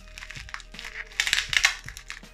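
Crinkly packaging for Dell PowerEdge R710 server processors rustles and crackles in close, irregular bursts, with small taps and snaps as it is torn open and handled.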